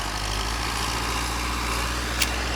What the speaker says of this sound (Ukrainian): трактор на мене їде